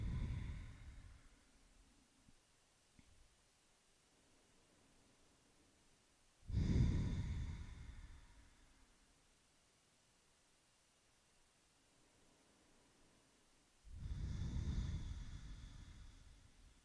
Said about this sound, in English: constricting the throat as you breathe out, as you invite your Ujjayi breath here